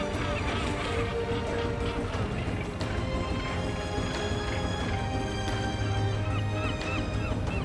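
Seagulls and skuas feeding on discarded fish at sea off the Arrábida coast, a dense continuous chorus of overlapping honking, squawking calls from many birds, loud and steady throughout.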